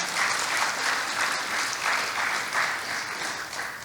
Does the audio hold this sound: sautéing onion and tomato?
no